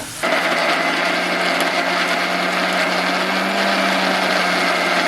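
A mixer grinder whirs loudly and steadily while grinding a wet masala paste for a prawn curry, starting suddenly and holding a constant high-pitched motor drone with no talk over it.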